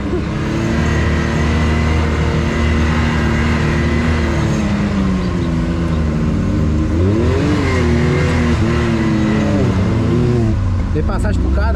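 A Can-Am Maverick X3 RS UTV accelerating on a rough trail in the Serra da Bocaina, its engine droning loudly and rising and falling in pitch up close, with voices talking underneath.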